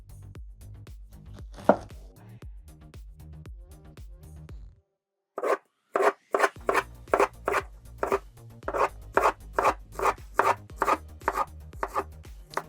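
A knife works through a halved pineapple to cut out the core on a cutting board, giving a quick run of crisp chops, a short pause, then a steady series of sharp, evenly spaced cuts.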